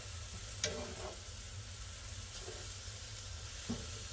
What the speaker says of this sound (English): But we're going to keep stirring this up here.